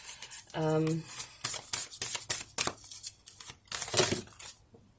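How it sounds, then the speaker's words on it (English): Repeated crisp riffling and slapping of tarot cards, close up, in uneven bursts, with a voice speaking briefly near the start. "So let me start shuffling the moon card"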